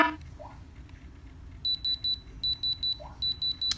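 A diamond tester gives quick electronic beeps in rapid groups of three or four as it touches metal, repeating in two clusters over a faint background hum.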